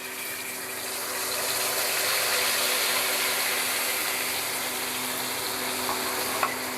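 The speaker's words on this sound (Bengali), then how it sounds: "ওই তেলের মধ্যেই এবার একটু জিরে ফোড়ন দিয়ে দিলাম।" Cumin seeds tempering in hot oil for Bengali mustardy climbing perch curry, a steady close sizzle and crackle that swells after the first second and holds evenly, with a faint scrape near the end and no voices.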